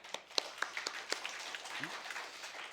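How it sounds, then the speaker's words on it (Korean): Scattered clapping rises from a church congregation during a Sunday all-generations worship service. The claps are sparse and fairly quiet, with a faint room murmur underneath. "박수."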